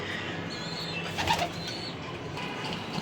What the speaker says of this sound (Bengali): দুই পিস কবুতর উড়াচ্ছি